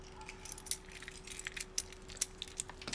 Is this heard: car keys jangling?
yes